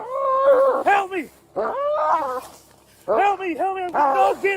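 A dog attacking and biting a person produces loud, close snarling yelps and whimpering barks in several bursts with short pauses, and frantic human cries mix in with the animal noise.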